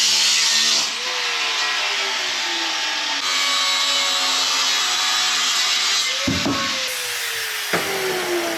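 A power saw cuts through an aluminum thermostat housing, a loud, continuous high-pitched shriek and whine, with the motor pitch dipping and shifting as the blade bites, plus a couple of sharp knocks near the end.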